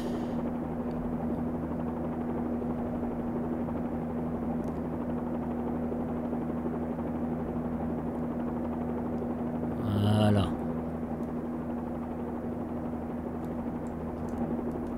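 A Bell 47G helicopter in the X-Plane 11 simulator drones with a constant rotor and engine hum, loud and steady throughout, with a brief swell of extra noise partway through.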